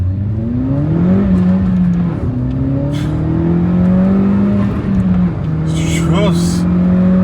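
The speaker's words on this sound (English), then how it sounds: "I'm just going to floor the car and see what's what." A Suzuki Swift Sport with a manual gearbox is floored in first gear, its engine note climbing steadily and loudly from inside the car, with brief dips as the revs rise again and a bit of cabin noise on top.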